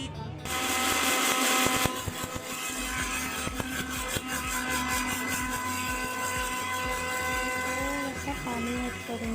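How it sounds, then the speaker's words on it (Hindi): A kitchen mixer grinder whirs loudly as it grinds mustard seeds and chillies together, a dense, steady motor whine with rattling of the seeds inside, running continuously after a short start. "अभी मैं पहले सरसों और मिर्ची को पीस लूँगी मिक्सर ग्राइंडर में।"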